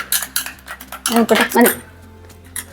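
A spoon works a homemade three-ingredient face mask mixture around in a small bowl, giving close, quick bursts of scraping clinks with short pauses between strokes.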